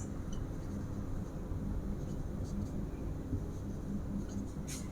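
Chalk or marker scratches across a board in short, steady strokes during a 10th-class math lesson, close and moderately loud over a constant low background hum.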